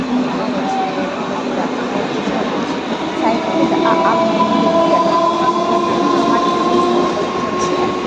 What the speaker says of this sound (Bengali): ওই দেখো আমার ট্রেন চলে এসেছে